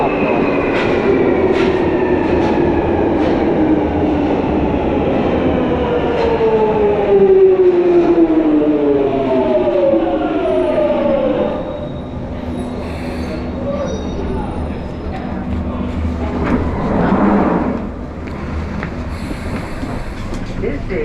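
London Underground train running between stations, wheels squealing loudly in long rising and falling tones over a steady rumble of the carriage, with brief muffled voices and a quieter stretch near the end.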